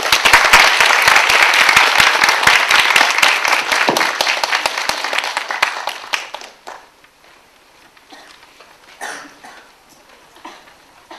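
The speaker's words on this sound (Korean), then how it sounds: "손석춘 선생님을 힘찬 박수로 모시겠습니다" Vigorous audience applause welcoming a speaker at a lecture, loud and dense for about six seconds, then tapering into a few scattered claps and faint room noise.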